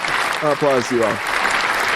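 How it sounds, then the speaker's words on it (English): A round of applause, a steady spatter of clapping heard beneath a voice speaking briefly in the middle. "Round of applause to you all."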